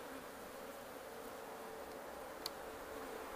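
Honey bees buzz from an open top-bar hive in a steady, even hum that stays constant throughout, with one tiny tick partway through.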